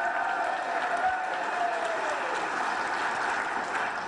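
A political rally crowd keeps up steady applause, a continuous wash of clapping that holds at an even level from start to finish.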